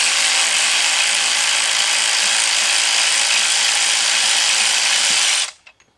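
A ratchet wrench loosening a bolt on a mechanical assembly gives a loud, close, steady buzzing clatter for about five seconds, then cuts off with a few faint knocks.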